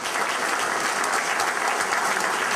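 Warm, steady applause from the audience at a municipal election debate in Bladel, a dense, even wash of many hands clapping at a strong level for a couple of seconds.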